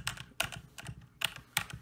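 Keys clack on a Logitech K840 mechanical keyboard in quick, uneven bursts of crisp taps, close and clear with no talking.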